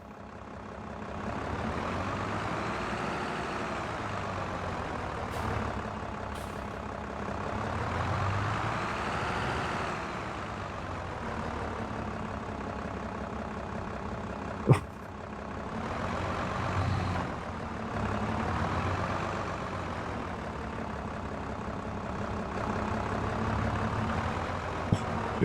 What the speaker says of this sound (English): This tractor's much bigger than the other one.